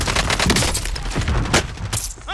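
Dense bursts of rapid gunfire and fusillades from a Call of Duty: Modern Warfare firefight, loud and continuous with overlapping shots and booms throughout.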